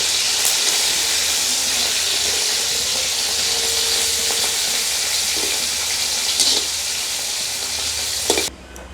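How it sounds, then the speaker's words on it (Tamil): Dried anchovies (nethili karuvadu) fry in hot oil in a pan in a village kitchen, giving a dense, close, continuous sizzle with occasional stirring scrapes before it suddenly drops away at the end. "இப்போ வந்து எண்ணெய் சூடாகிட்டு கருவாட்டை நாங்கள் போட்டுக்கொள்வோம்"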